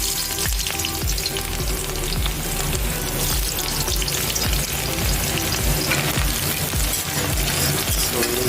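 Chopped onion sizzles and fries in an iron pot with black seeds and turmeric, stirred steadily; a loud, continuous crackling sizzle with scraping stirs throughout, no talking.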